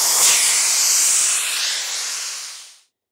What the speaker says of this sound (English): We're gonna push the button and let the majority of the air out,